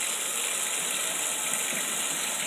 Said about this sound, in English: Fresh running ice cold water, ready for our soup.